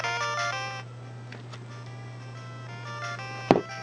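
Tinny Game Boy Double Dragon music playing on a Nintendo DS through an R4 cartridge, loud chiptune beeps over a steady hum, with a sharp click near the end.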